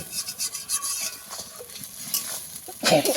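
Spices and okra, with a little water added, sautéed and stirred in a pan, giving a steady scraping and rasping with soft sizzling throughout and a louder stir near the end.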